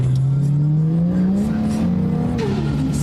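A Nissan S15 sports car engine drones steadily and loudly, its pitch climbing as it revs up while driving, then dropping briefly before rising again.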